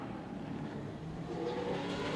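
A super late model race car on the track during qualifying at Auburndale, its engine roaring steadily at a distance with a slight rise in pitch as it pulls along, loud and continuous without speech.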